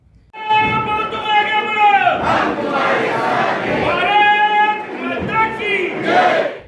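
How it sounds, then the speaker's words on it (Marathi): Party workers from the BJP, Shiv Sena and NCP loudly chanting slogans inside the Jalgaon municipal council hall after a mayoral election, a dense, sustained crowd roar of overlapping voices rising in repeated shouted waves. "महानगरपालिका सभागृहात भाजप शिवसेना आणि राष्ट्रवादी काँग्रेसच्या कार्यकर्त्यांनी जोरदार घोषणाबाजी केली"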